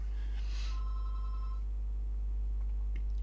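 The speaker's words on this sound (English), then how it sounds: "the phone is ringing" A telephone rings once in a quiet indoor room, a short electronic ring heard alone at moderate level with faint background hum.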